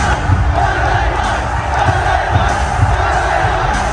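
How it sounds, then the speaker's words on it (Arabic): Loud wrestling arena crowd roaring and cheering as AJ Knight makes his entrance, a dense continuous wall of massed voices with booming low rumble and occasional sharper shouts poking through. "خد بوب عالي جدا جدا من الجماهير"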